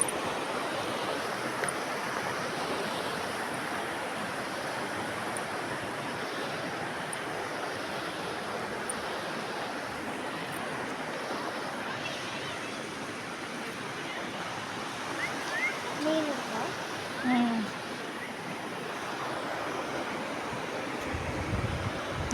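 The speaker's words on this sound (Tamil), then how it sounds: "தண்ணி எப்படி போகுது பார்த்தீங்களா" Steady rushing river water fills the whole stretch, a dense broadband wash of a fast-flowing river, with a few faint splashes near the end.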